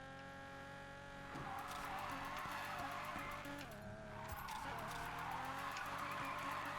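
A Nissan 350Z in the racing game Need for Speed Payback skids with squealing tires over a steady engine drone, and brief impacts break through the noise.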